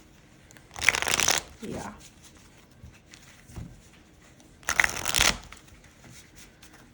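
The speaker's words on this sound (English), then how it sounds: "I want to shuffle this to see how it shuffles" A Minchiate di Bomarzo tarot deck, new 2nd edition, is shuffled in two distinct bursts a few seconds apart. The crisp riffling is close-up, and a voice says a single brief word in between.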